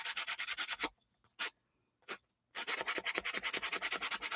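Close, brisk rubbing of sandpaper on wood in rapid back-and-forth strokes, briefly pausing with a couple of short scrapes before the steady sanding resumes.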